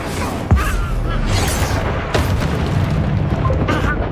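Incendio fire spell cast in Hogwarts Legacy combat, giving dense whooshing, booming bursts over a constant thick rumble, with a sharp hit near the start and another midway.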